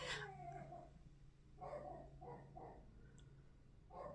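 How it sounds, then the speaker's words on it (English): A dog barks and howls in a quiet indoor setting, with a few faint, drawn-out calls that sound distant and soft over low background hum. "Do you hear the dog?"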